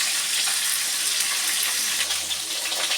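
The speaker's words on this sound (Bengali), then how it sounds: "এবার আমি ভাজছি, সর্ষের তেলেই ভাজছি" Sliced potatoes fry in hot mustard oil with a loud, dense, steady sizzle that stays even throughout, with no voices.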